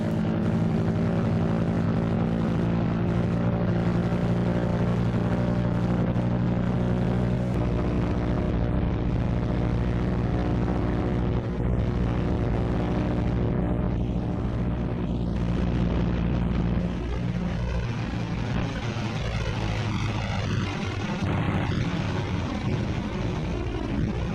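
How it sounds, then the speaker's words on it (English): Martin B-26 Marauder piston engine running up steadily on the ground, a loud continuous droning roar with strong harmonic hum that holds throughout, shifting in tone and easing slightly toward the end as the propeller is exercised. "Next is the engine run-up and prop check, one engine at a time."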